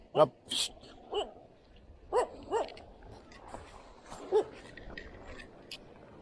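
A dog barks in several sharp, separate bursts, some yelping, spaced irregularly over a quiet outdoor background on the rocky shore in Mumbai.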